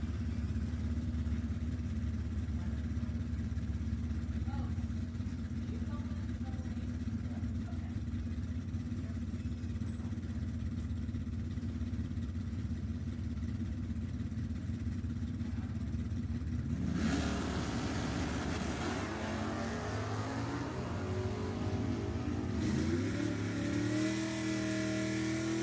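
Two drag racing cars, a 340 Mopar and a 302-inch Mercury, rumble at a low idle. Partway through, their engines roar up into loud, rising revs that climb and fall in waves, with no voices.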